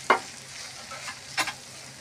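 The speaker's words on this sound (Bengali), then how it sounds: "ভালো করে সেমাইয়ের সাথে চিনিটা মিশিয়ে নেব।" Sugar is stirred into vermicelli (semai) in a pan, a couple of distinct scraping strokes of the spoon over a soft, quiet sizzle.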